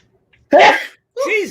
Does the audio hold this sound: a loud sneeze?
yes